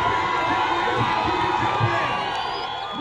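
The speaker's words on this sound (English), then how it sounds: "big round of applause" A crowd at a malaria charity campaign event applauds and cheers, with whoops and a steady roar of clapping over background music, loud and continuous.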